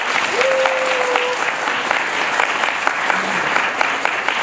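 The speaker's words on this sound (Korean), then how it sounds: "영광의 박수 한번." Applause from a church congregation at a sports day event, a steady wash of many hands clapping throughout, with a brief whistle-like tone near the start.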